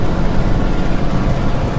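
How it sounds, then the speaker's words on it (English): Continuous dense, loud low engine rumble from a modded truck in American Truck Simulator, steady and unbroken with no voices over it. "Creesh Bum made the engine sounds for this"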